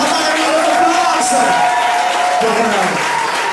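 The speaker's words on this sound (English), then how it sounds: "Come on, a round of applause." A community gathering welcomes a guest speaker with loud, close, continuous applause and cheering, dense clapping under a crowd murmur and a few raised voices, steady throughout.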